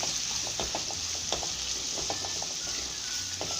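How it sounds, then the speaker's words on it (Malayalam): Chopped onions fry in hot oil and are stirred toward golden brown, a steady moderate sizzle with intermittent spatula scrapes and light clicks against the pan, with no talking. "അതുവരെ നമുക്ക് എണ്ണയിലിട്ട് നല്ലോണം മൂപ്പിക്കണം."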